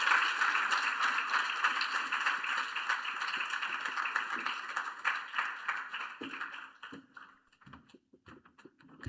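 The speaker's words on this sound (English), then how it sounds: "Can we give her another round of applause?" Audience applause at a parent and educator forum, a steady dense clapping from a crowd that stays full for several seconds, then thins out into a few scattered claps and fades near the end.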